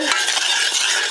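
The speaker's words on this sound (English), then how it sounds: "Stir." Thickening cream pie filling for a frosted apple and peach pie being stirred in a pot on the stove, a brief, continuous wet scraping and swishing heard up close.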